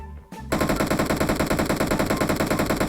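Rapid automatic gunfire in PUBG Mobile, a loud, continuous burst of evenly spaced shots that starts abruptly after a short lull and keeps going without pause.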